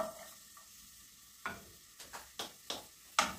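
Small onion and dried beef (carne seca) sautéing in olive oil for pastel de angu filling, quiet sizzle broken by a series of distinct spoon scrapes and clacks against the pan.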